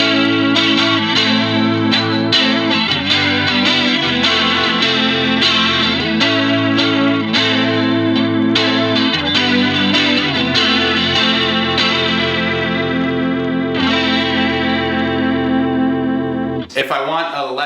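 Electric guitar run through a Warm Audio CE1 chorus pedal, sustained chords and notes shimmering with a warbling, wobbly modulation, loud and close, played continuously before a brief break near the end.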